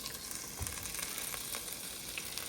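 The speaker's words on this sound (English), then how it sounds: "So I've got this boiling away at the moment." A curry with onion and curry powder cooks in a pot, giving off a steady, close sizzle and bubbling that runs unbroken, with scattered tiny pops and no talking.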